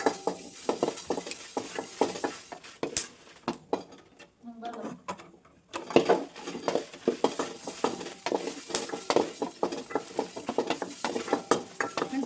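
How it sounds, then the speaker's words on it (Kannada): Ingredients being roasted and stirred in a pan, with a spoon scraping and clinking against the metal in quick irregular strokes, a short pause near the middle, and occasional speech in between. "ಇದನ್ನ ಇದ್ರ ಜೊತೆಗೆ ಹಾಕಿ ಹುರ್ಕೊತಾ ಇದ್ದೀನಿ."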